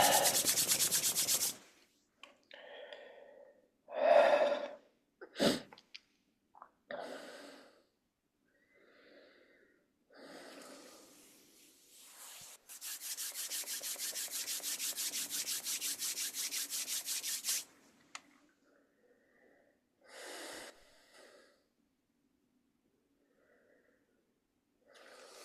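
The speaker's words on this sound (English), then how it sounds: "let's start off as I usually do with my little rubbing the hands thing" Hands rubbing together in a quiet room, with a few bursts of rough dry friction and then one long sustained rub of about five seconds, close to the microphone, separated by soft breathy noises and silence.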